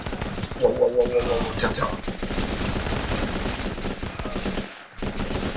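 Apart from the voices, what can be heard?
gunfire in video game Running With Rifles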